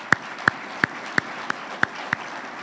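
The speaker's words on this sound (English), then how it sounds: "Give these wonderful ladies, Jackie and John, another round of applause" Steady, evenly spaced handclaps ring out over a low murmur of background noise at a Veterans Day program, about seven sharp claps in under three seconds, with no talking.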